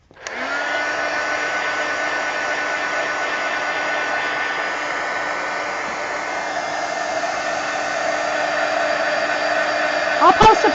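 A hair dryer blows steadily for about ten seconds over a mixed-media art journal page, a constant loud whooshing hum with a brief clatter near the end.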